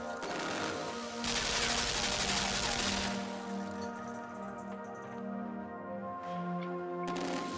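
A gun in the Limbo video game fires a rapid burst of rattling shots for a couple of seconds, followed by low droning tones and quieter ambient sound.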